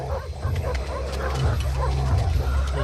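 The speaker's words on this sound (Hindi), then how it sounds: "ये सब जंगली कुत्ते हैं।" Wild dogs bark and yip repeatedly, close and fairly loud, with whimpering sounds mixed in over a rumbling background.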